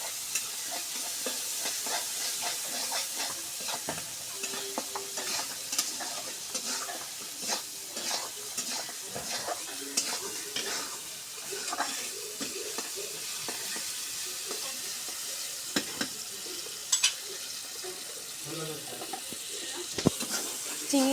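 Shrimp fry in a pan with turmeric powder and salt, giving a steady, close sizzle with scraping from a stirring spoon and occasional clinks, while a voice talks intermittently.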